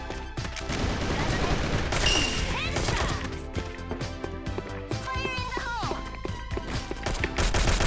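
Gunfire in the online shooter Sudden Attack, dense rapid bursts of shots and impacts with clattering effects throughout, loud and close in the game mix.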